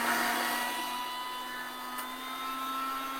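A Panasonic blender runs at raised speed, blending a small amount of water with the lid locked, giving a steady high whine with a constant tone and no talk.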